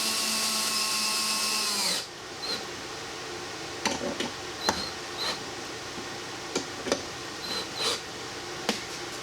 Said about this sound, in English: Before we actually drill into this